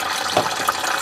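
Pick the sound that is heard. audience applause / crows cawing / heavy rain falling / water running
water running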